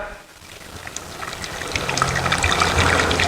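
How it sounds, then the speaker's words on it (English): Cider pours into a pan holding sliced pork chop, with apple and quince, a soft liquid trickle that swells into a steadier, louder stream over a few seconds. "Going to cook that with a little bit of cider."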